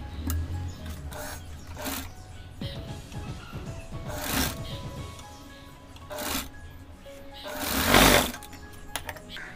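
Sewing machine stitching pleats on a fabric face mask: bursts of rapid mechanical needle chatter with rattling pauses between runs and a louder whirring burst near the end, close and clear.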